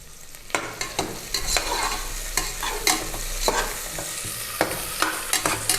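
Green chillies, mint and coriander leaves sizzle in hot oil in a pan, with a steady frying hiss broken by repeated sharp scrapes and clinks of a stirring spoon against the metal, close and fairly loud, no voices.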